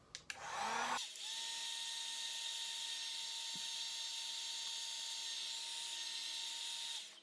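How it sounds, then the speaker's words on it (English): A heat gun heating a plumbing drain hose runs as a steady, loud whirring blow with a high whine, starting after a brief click and continuing alone for several seconds before cutting off. "Just take a heat gun."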